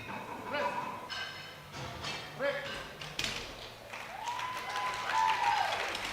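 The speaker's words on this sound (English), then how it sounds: "Big cheers from the British crowd." A British crowd cheers and claps at a European sub-junior and junior classic powerlifting championships after a successful bench press, with moderate bursts of applause and shouts rising and falling under an announcer's voice in a large hall.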